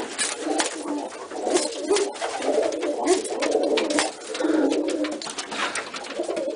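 Pigeons coo in soft, throaty, rolling calls that overlap and continue without a break, close and fairly loud.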